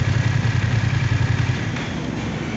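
A BMW F900R parallel-twin motorcycle idles nearby with a pulsing throb, then the engine is switched off partway through and the sound drops to a fainter fading hum.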